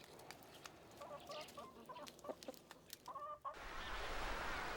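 Chickens cluck softly in short repeated bursts while being fed on a farm in autumn, fairly close and alone, before a broad wash of wind or rustling noise takes over.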